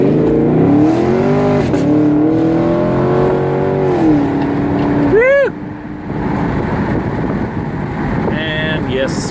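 A 2016 Chevrolet Camaro 2SS convertible pulls away from a near roll and accelerates hard, its engine note climbing loudly before a quick shift, with someone talking over the engine.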